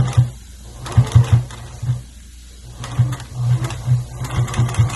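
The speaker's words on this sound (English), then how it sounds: "when I get to the earpiece, I always do one sew and then back stitch on it" A sewing machine back-stitches across the earpiece of a fabric face mask: bursts of rapid, close mechanical stitching that stop and restart, with short pauses between runs.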